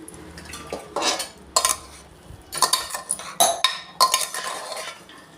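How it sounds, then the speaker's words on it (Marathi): Egg biryani is stirred and mixed in a metal pot, a spoon scraping and clinking against the sides in several bursts with short pauses between them, close and fairly loud. "सगळं मिक्स करून घेते."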